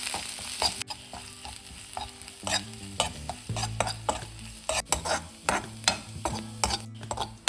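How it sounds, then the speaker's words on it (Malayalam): Crushed ginger frying in oil for puli inji, an Onam sadya pickle, with a soft sizzle under repeated close scraping stirs of a spoon against the pan at an irregular beat, no speech. "ഇഞ്ചി പൊരിഞ്ഞിട്ടുണ്ട്. നമുക്കത് വറുത്ത് മാറ്റാം."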